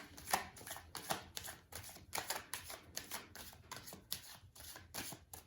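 Tarot cards are shuffled and dealt in a run of quick, crisp flicks and slaps, about a dozen separate bursts at an uneven rhythm, close and fairly quiet, with no voices.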